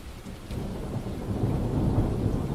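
A rainstorm in the video game World's Dawn pairs steady falling rain with a low rumble of thunder that builds gradually.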